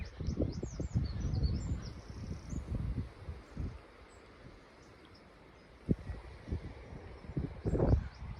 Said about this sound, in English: Yeah, so one chiff-chaff in here.